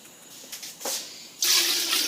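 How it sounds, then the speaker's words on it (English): Water is poured into a pot of mutton for stew, a few short splashes followed by a louder, steady gushing pour near the end. "8 cups of water, because the water has to be a little 1 inch higher than the meat."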